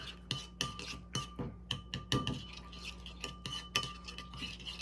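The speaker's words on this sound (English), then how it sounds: "So give it a quick stir here" A spoon stirs brown sugar sauce for Chinese BBQ roast pork in a bowl, making a run of close, rhythmic clinks and scrapes against the sides, roughly one every half second, with no voices.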